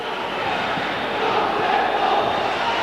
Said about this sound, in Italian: sentite il tifo abruzzese che si è accalcato di fronte alla nostra postazione